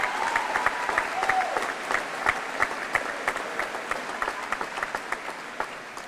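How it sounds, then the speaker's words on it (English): A high school graduation commencement crowd applauds foreign exchange students, a sustained room-filling patter of many hands with some individual claps standing out, gradually thinning toward the end. "Let's give them a round of applause."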